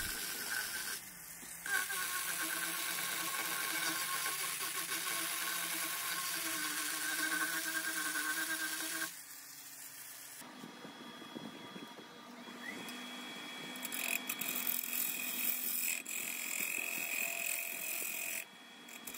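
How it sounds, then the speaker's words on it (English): A small Proxxon rotary grinder fitted with a carbide burr grinds high spots off epoxy in a boxelder resin bowl, a steady high-pitched whine that shifts in pitch and loudness as it cuts. "Here I'm just using the small Proxon grinder with a carbide burr on it"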